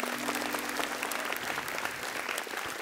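An audience at a live stand-up comedy show applauds, a dense, sustained wash of many hands clapping that stays strong for the whole stretch, with a faint low hum fading out early.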